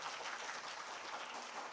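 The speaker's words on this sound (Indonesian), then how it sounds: "saya minta tolong tepuk tangan dan apresiasi yang sangat kencang untuk teman-teman tim pengendali" An audience gives a faint, distant, steady wash of applause for a regional inflation control team at an economic briefing in NTB province.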